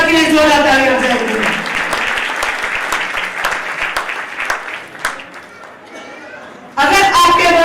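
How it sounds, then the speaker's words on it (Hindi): A congregation at a Hindi-language church service bursts into loud, dense applause beneath a speaking voice, the clapping thinning and fading over several seconds before the voice returns strongly on its own. "मसीह के इस्लाम के लिए जोरदार तालियां बजाएंगे"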